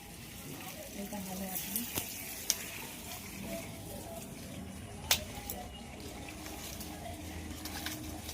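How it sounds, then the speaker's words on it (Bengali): Vegetables sauté with a little salt in a pan, a soft continuous sizzle with occasional stirring clicks and a couple of sharp utensil knocks, fairly quiet throughout. "সামান্য নুন দেবো, দিয়ে সবজিটা কষতে দেবো"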